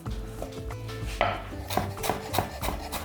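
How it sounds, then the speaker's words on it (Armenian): A knife chops finely through green herbs such as dill on a board, a fairly steady series of close, crisp taps with a few louder knocks. "Մանր կտրատում ենք։"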